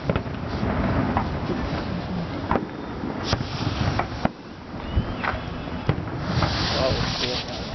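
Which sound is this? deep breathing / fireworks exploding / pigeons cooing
fireworks exploding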